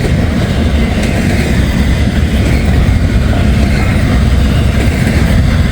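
A freight train hauling mostly empty cars and bare frames rolls past a quiet cemetery, producing a loud, steady rumble and rattle that fills the whole stretch without letup.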